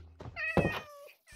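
A cat in Minecraft, played in VR, lets out one clear drawn-out meow followed by a shorter second call, close and distinct with a dull thunk and no talk.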